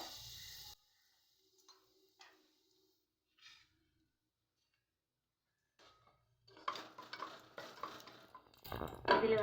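Bay leaves and a small piece of cinnamon fry in oil and ghee for a salna. A quiet pan gives faint clinks at first, then a steady sizzle builds over the last few seconds.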